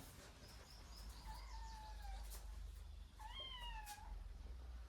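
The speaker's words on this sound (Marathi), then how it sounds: "मांजर बघा" A domestic cat meows twice at close range, two drawn-out calls separated by a pause, over a steady low background hum.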